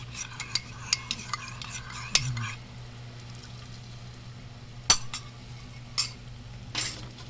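A pan mixture thickened with cornstarch being stirred and sautéed, with scattered clinks and scrapes of a utensil against the pan over a low hum, quieter in the middle stretch.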